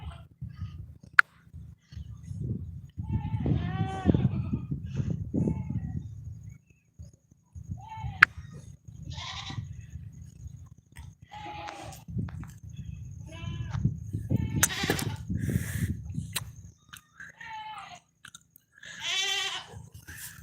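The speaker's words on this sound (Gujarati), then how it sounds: "આ બકરી બહુ ચિલ્લાય છે યાર" A goat bleats several times near a farm vegetable plot, its cries loud and repeated in bursts, with outdoor chewing and rustling noises between the calls.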